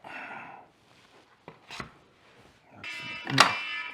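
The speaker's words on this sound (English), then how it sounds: "That's the alarm." A kitchen timer beeps briefly near the end while gluten-free sourdough bakes in a Dutch oven. Before it come kitchen clatter and soft rustling in a quiet room.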